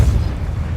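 Spell impact from Hogwarts Legacy combat, a short heavy boom with a deep rumbling low end that decays quickly, loud and close.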